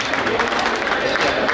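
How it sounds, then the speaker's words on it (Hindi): An audience at a Jain temple Panch Kalyanak festival in Jabalpur claps in honour of a donor family, a dense, continuous wash of applause from a crowd for a short burst. "जोर से ताली बजाइएगा ऐसे परिवार"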